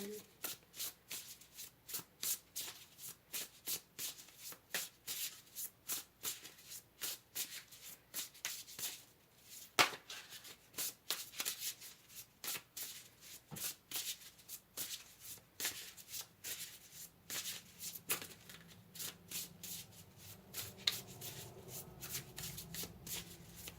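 Tarot cards are shuffled by hand in a long run of quick crisp riffling flicks and slaps, close and fairly quiet, with a short pause partway and a soft rustle toward the end.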